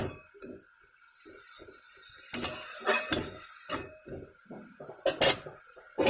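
A metal lid is set on a cooking pot of fish head with bottle gourd greens, giving a run of close, bright clinks and clanks between quieter moments.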